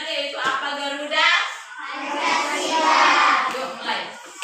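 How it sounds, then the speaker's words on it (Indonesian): Fourth-grade elementary schoolchildren clap hands together in a classroom before singing a national song, a lively spread of claps mixed with children's voices and talk throughout. "Tepuk tangan."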